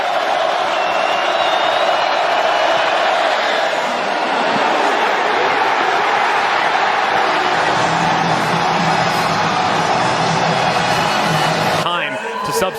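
A sellout stadium crowd at a college football game keeps up a loud, steady roar the whole way through, with what sounds like a commentator talking over it.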